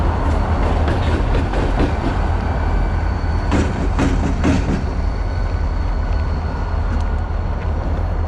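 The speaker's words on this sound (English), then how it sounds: "You can get a good shot here of these couple CN locomotives" A pair of CN locomotives roll past a private level crossing, a loud steady rumble with rattling wheel noise and a few sharp squeals, no voices.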